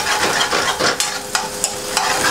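Salmon sizzles in a hot pan over softened browning onions, giving a steady close crackle with a few sharp clicks of a utensil against the pan.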